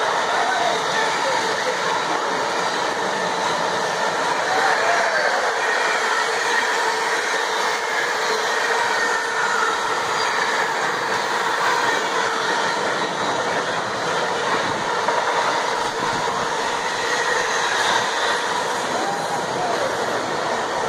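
A Class 66 diesel locomotive hauls a largely empty freight train from Doncaster to Felixstowe past Needham Market station, a loud sustained rumble and clatter of wagons rolling by close at hand for the whole stretch.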